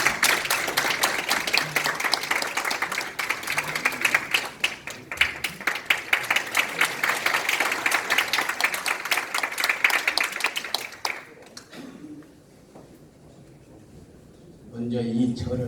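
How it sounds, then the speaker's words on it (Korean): Loud, rhythmic crowd clapping at a conservative political rally welcoming a Buddhist monk, dense and sustained for about eleven seconds before dying away into near quiet, after which a voice begins speaking. "뜨거운 박수 부탁드리겠습니다"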